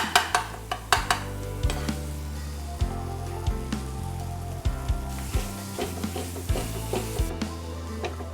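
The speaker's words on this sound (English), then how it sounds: "I'm going to use the masher to mash these tomatoes so that they cook faster" Cooking tomatoes mashed with a masher in a pot: a regular rhythm of soft, wet thumps and squelches repeating about once a second over a steady low bubbling simmer, close up, with no talking.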